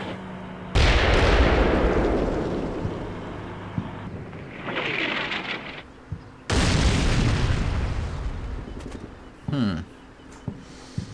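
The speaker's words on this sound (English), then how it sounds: "So we're taking a little bit of fire. It looks like small arms fire from the far east there." Small arms fire crackles in the Combat Mission Black Sea video game, with a loud burst of sustained gunfire and booms followed by a second heavy volley and a few scattered sharp pops.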